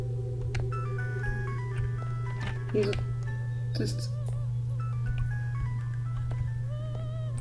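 A broken telephone rings in the horror game Araya as a looping electronic melody of tones over a steady low hum, with someone talking over it.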